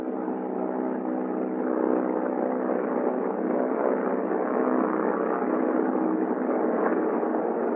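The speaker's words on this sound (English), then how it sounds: "And push the feathering button and hold until the prop windmills to between 600 and" A C-47 aircraft propeller windmilling after the feathering button is pressed gives a steady, droning engine and prop hum that holds even and continuous throughout, heard from inside the aircraft.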